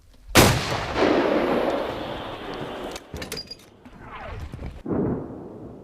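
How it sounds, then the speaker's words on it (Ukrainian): One sharp, loud artillery blast followed by a long rumbling echo, then clanking metallic handling noises and a few softer thuds. "Постріл."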